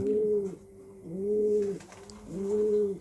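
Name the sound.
racing pigeon cooing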